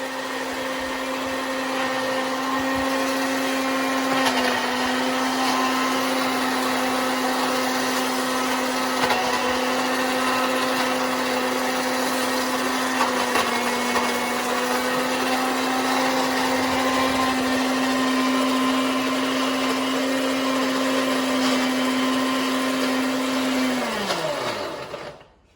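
A kitchen mixer grinder whirs continuously as it grinds sugar, a loud, steady motor drone that holds for the whole stretch, then winds down at the end.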